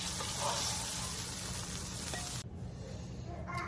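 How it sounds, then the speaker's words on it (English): Seasoned meat cooks in melted butter in an electric skillet, giving a loud, dense, continuous close-up sizzle that drops to a quieter hiss partway through. "I'm going to melt a little more butter right here in this electric skillet, and we'll cook each meat"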